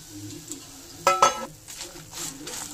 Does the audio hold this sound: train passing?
no